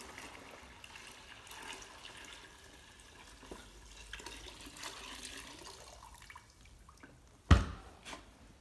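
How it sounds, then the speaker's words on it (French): Leftover water drains out of a mini dry ice low-fog machine in a soft, continuous trickle with drips, ending in a sudden louder splash near the close. "assurez-vous de bien vider l'eau restante dans la machine"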